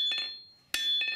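A hammer strikes a blade heel on an anvil at the forge, drawing it out. A quick pair of bright metallic clinks comes first, then after a pause one hard ringing blow, then another quick double strike, all close and loud.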